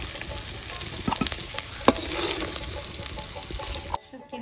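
Small dried fish (shutki) frying in oil in a pan, a steady close sizzle with a few scraping stirs and clinks, which cuts off abruptly near the end.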